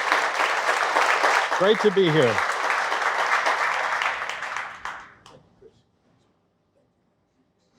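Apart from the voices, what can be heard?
round of applause for business owners and city officials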